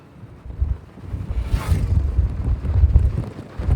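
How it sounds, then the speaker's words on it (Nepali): Wind buffets a phone's microphone on a hilltop trail on Mount Aso, a steady low rumbling roar that swells and gusts throughout, close and loud, with no talking. "हावाले झन्झनै फोन उडाइदिन्छ हौ"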